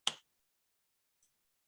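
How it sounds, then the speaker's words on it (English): One person claps once, a single sharp, close hand clap followed by a faint tiny tap and then silence. "Mark is clapping, so I did a great job."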